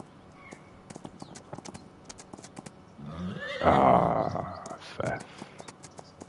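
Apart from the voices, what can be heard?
horses running, hooves clip-clopping, from video game Farming Simulator 25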